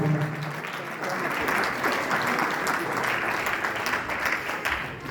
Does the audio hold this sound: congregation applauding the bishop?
yes